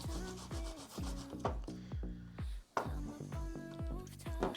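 Food grated by hand over a salad bowl while preparing Spanish tapas, with a series of quick, rhythmic rasping strokes close by and brief pauses between them.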